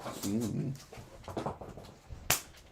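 A dog whimpers close by, starting with a wavering whine and then giving softer whimpers and snuffles, ending in a sharp click.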